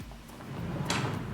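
A makeup storage drawer slides open with a smooth rolling rumble and a brief sharper rattle partway through, close and moderately loud, no talk.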